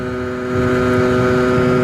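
A 2017 Rieju MRT Pro motorcycle engine runs close by at mid revs, a steady buzzing drone that rises slightly in pitch and loudness partway through.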